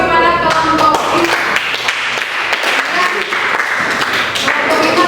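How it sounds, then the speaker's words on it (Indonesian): A classroom of high school biology students applauding a student group, a burst of dense clapping that fades gradually over several seconds, with voices mixed in. "kita berikan aplaus kepada kelompok 5"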